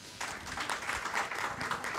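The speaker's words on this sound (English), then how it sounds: "let's give him a big round of applause." A crowd breaks into steady applause, many hands clapping in a dense, continuous patter that holds for the whole stretch.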